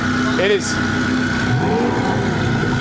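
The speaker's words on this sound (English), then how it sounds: "It's incredible that we have a Z06 with twin turbos and it sounds like that." A twin-turbo Chevrolet Corvette Z06 at the Corvettes at Carlisle car show rumbles at close range with a steady engine drone and a brief rev near the start, while people talk over it.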